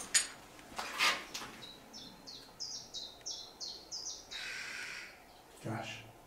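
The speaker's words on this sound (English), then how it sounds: "So we have got crows as well." Crows caw in a rapid series of harsh calls outdoors around a reportedly haunted mansion, with a few other bird chirps and faint background noise.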